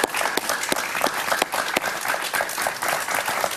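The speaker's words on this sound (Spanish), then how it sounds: "Un aplauso para él, por favor." A studio audience applauds Wilmer Azuaje, a former Venezuelan political prisoner, on a television talk show; close, crisp clapping with distinct individual claps runs continuously throughout.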